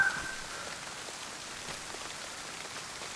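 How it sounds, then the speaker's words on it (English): Steady, even rain from a video game patters on a surface, with a soft constant hiss and no voices. "There is rain going on, so I have a chance."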